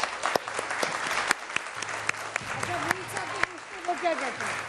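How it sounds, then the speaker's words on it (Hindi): A television studio audience on a morning show claps in a continuous, uneven patter, with a few sharp individual claps standing out and someone speaking over the applause. "अब आप सबके सब जितने भी लोग यहाँ हैं तालियां बजाना शुरू कीजिए।"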